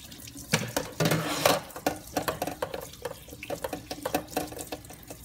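Running water from a tap splashes over a DJI Phantom 3 Pro drone as it is washed after an ocean crash, with a close, continuous gush and irregular splashes and drips.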